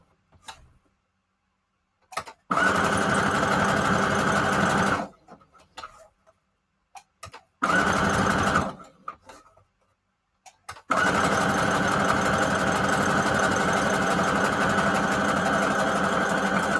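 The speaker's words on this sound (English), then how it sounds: "sewing through the last heat and bond, the red one, it was really hard and it would skip stitches all the time" A sewing machine stitches through fabric and heat-and-bond in loud, close bursts, with short runs separated by pauses and faint clicks, then a long continuous run to the end.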